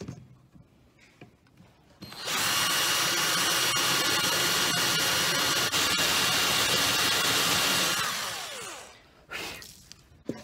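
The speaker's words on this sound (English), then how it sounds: "I'm going to make that opening wider there with my drill" A power drill whirs loudly and steadily for several seconds while widening a hole in wood, then winds down, with quiet handling noises before and after.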